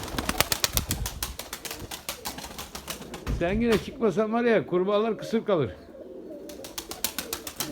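Pigeon flown in the rain, with wing flaps and soft cooing near the microphone while someone speaks Turkish over it, the sounds rising and falling in short bursts.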